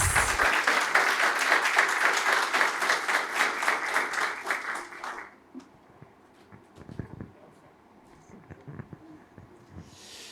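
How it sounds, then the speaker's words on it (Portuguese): Audience applause at a corporate event, welcoming an operations director from a paint company. A crowd claps loudly and rhythmically for about five seconds, then it stops and leaves quiet room noise with a few faint scattered sounds. "Vamos recebê-lo com uma forte salva de palmas"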